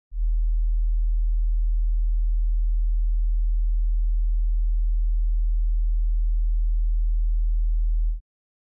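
A pure 40 Hz sine test tone plays as a steady, very low, constant hum for about eight seconds, starting and stopping cleanly, with nothing else heard.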